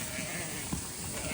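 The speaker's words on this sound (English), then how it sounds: "these are the Kansas sheep" A Kansas hair sheep bleats once in a barn lot on a farm, a short bleat set against steady broadband noise.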